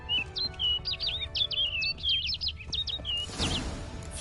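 Songbird chirps and tweets in The Witcher 3: Wild Hunt, a quick series of bright, close calls over a quiet ambient bed, followed by a brief rustling burst.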